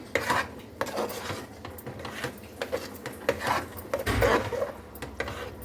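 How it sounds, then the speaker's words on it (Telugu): Spoon scraping and clinking against a pot while stirring coriander powder and spices into a farm-chicken and egg curry, a run of uneven metallic scrapes and knocks at close range with no talk. "ఇవన్నీ వేసాక ఒకసారి కలుపుతున్నాం"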